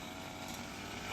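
Grass cutter running while clearing a farm, a steady buzzing two-stroke engine drone, faint and brief, with no voices.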